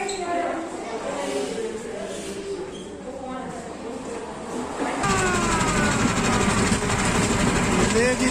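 A historic Pakistan Railways safari tourist train starts its trolley journey from Rawalpindi toward Attock Khurd, its engine droning and rising sharply in loudness partway through, with a voice talking over it.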